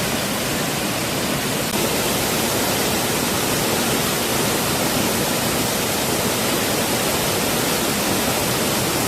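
A constant, loud, hissing roar of a waterfall on a forest trail near Seoul fills the whole stretch without letup, with no voices.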